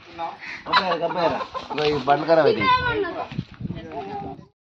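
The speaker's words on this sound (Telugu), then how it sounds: "కోడి ఉన్నట్టుంది మామిడి చెట్టు మీద." A chicken perched in a mango tree at a family home during a mango harvest gives a run of close, repeated clucks, with people's voices mixed in around it.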